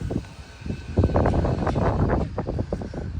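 Wind buffets the microphone in a continuous rumbling roar, with gusty bursts and faint background activity.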